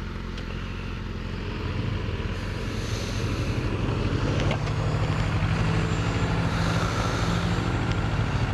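A 2009 Kawasaki Ninja 650R on the road, its engine giving a brief rev amid steady wind rush and engine drone while riding.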